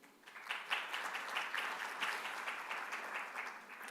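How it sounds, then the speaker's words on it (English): Audience applause at a packed conference, a steady wash of many hands clapping throughout at moderate, even loudness with no talk over it. "So a round of applause for you and the sponsors,"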